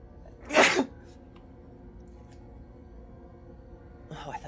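In the video game Little Nightmares 2, one sharp sneeze bursts out, followed by a quiet stretch with faint shuffling and a small rustle at the end.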